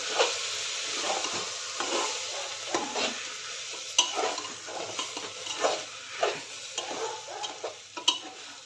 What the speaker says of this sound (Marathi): ते सर्व चांगलं परतून घ्यायचं आहे तांदूळ डाळी आपण स्वच्छ धुवून घेतलेलं आहे ते परतून घ्यायचं आहे चांगलं